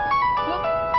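A mobile phone ringtone plays a short repeating electronic melody, bright and fairly loud, during a family moment at home as a girl plays shuttlecock kicking with her father.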